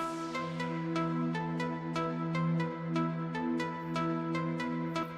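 A bright synth pad from the Hive plugin sustains steadily in an Afro tech house track, with a plucky synth line striking about twice per second over a constant low bass drone, loud and close, no voices.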